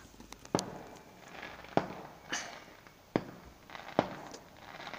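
Distant fireworks go off in sharp, isolated cracks and pops, five or six reports spread irregularly over several seconds against a quiet outdoor background.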